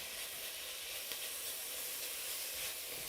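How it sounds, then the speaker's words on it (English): Steady, dense sizzling of minestrone ingredients frying in oil in a pan, a continuous bright hiss with faint crackles, close and fairly quiet. "we just want to get that frying and sizzling off."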